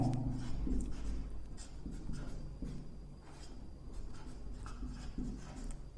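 Pen or marker writing a glycerate chemical formula by hand during a glycolysis lesson, a steady scratchy stroking that runs throughout at close range, alone with no talk.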